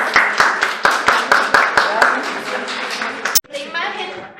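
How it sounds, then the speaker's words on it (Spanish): A classroom group claps in a rhythmic, evenly spaced pattern for about three seconds, followed by a sharp knock and then people talking. "Muchas gracias. Un aplauso."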